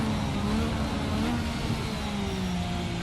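A race car engine in a sim racing game holds a steady loud drone with a rising pitch as it accelerates, continuous and close.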